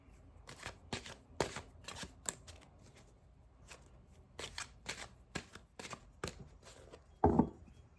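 Tarot cards are shuffled by hand in a quiet room, giving a series of short, crisp riffling bursts in an irregular rhythm, ending in one louder shuffle.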